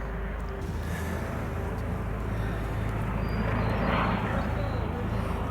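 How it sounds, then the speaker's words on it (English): Police helicopters circling over a forest protest camp of old-growth hemlocks at Fairy Creek, heard as a continuous distant rotor and engine drone that swells slightly midway and stays steady throughout. "The choppers are circling overhead."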